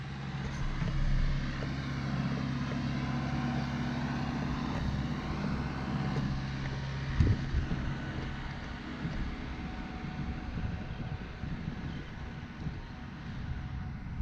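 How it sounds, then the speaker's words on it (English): A tractor passes by outdoors, a steady low engine rumble that holds for the full length, swelling briefly around the middle, with no voices. "There's a tractor going by."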